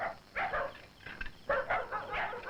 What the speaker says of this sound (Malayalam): നായ്ക്കൾ കുറിക്കുന്നു